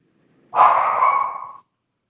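A single drawn-out dog bark or howl, loud and close, lasting about a second with a fading tail and quiet around it.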